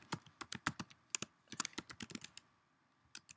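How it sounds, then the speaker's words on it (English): Close, crisp keystrokes on a computer keyboard entering a Gmail address, coming in quick irregular bursts with short pauses between them and a final few taps after a gap, with no voices. "So you basically type in"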